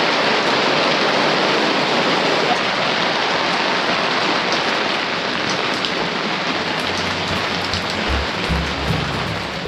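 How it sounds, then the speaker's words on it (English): Steady, heavy rain falls on a sailboat in New Zealand, a dense continuous hiss of drops that stays loud and even throughout, with a faint low rumble near the end and no voices. "it's a familiar story here in New Zealand this summer, as it's raining"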